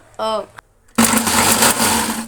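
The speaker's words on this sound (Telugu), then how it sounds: "మిక్సీ పడతాను" A brief spoken word, a short pause, then a mixer grinder grinding cut onions whirs loudly and steadily, close by, running to the end.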